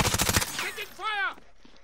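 Rapid automatic gunfire bursts in Call of Duty: Modern Warfare, several close loud shots in quick rhythm, then a short whooshing game effect and a voice calling out.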